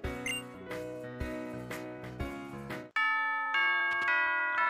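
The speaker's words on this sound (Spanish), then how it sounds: "Ah, esa es la campana de la escuela." A two-tone school bell chime from the video game Pokémon Ultra Moon rings clear and loud, sounding alone after a stretch of upbeat in-game background music.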